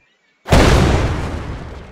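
Explosive barrel detonating in an Unreal Engine 4 game scene: after a half-second of silence a single sudden loud boom hits, then a long rumbling tail slowly fades.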